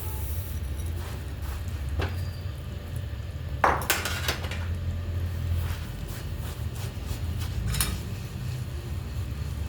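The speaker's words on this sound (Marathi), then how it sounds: "मिक्स करून घ्यायचं आहे पाक पाक आणि तीळ" Sesame seeds stirred into hot jaggery syrup in a pan, with a spoon scraping and clinking against the metal in scattered knocks over a steady low hum of background noise.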